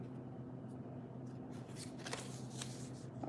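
A deck of cards being shuffled close by, with several quick riffling bursts over a steady low background hum.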